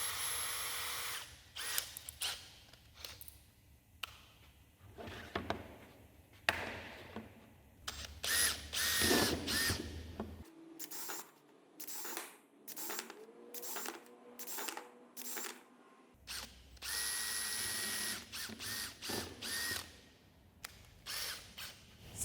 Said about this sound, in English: we can start with a 4mm pilot drill